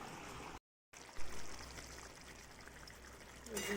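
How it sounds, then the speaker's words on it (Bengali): Hot water poured gradually into chicken cooking in a pot, a faint steady stream and bubbling after a brief gap, with a voice talking softly at moments. "গরম জল করে নিয়েছি, এতটা মতন। তো একটু একটু করে দিচ্ছি"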